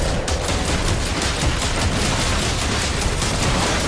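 Sustained rapid gunfire fills the air in the sci-fi horror game Dead Space 3, a dense and loud stream of shots that runs unbroken for several seconds with no talking over it.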